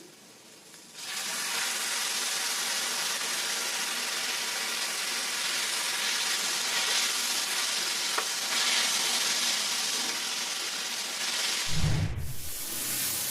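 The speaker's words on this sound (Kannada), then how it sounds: "ಇವಾಗ ಟೊಮೆಟೊ ಫ್ರೈ ಆಯಿತು" Tomatoes frying in a pan with onion and green chilli for a palak paneer gravy: a loud, dense, continuous sizzle that starts abruptly and holds steady, ending with a brief low clunk.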